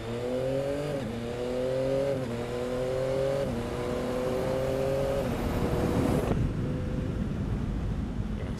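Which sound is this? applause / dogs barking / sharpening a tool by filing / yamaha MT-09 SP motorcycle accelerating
yamaha MT-09 SP motorcycle accelerating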